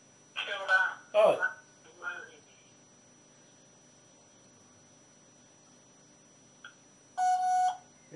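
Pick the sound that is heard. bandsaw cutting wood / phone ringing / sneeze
phone ringing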